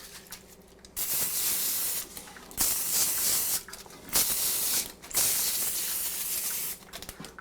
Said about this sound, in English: Then you're going to spray it with non-stick cooking spray.